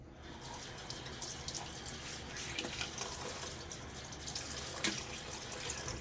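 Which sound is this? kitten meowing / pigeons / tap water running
tap water running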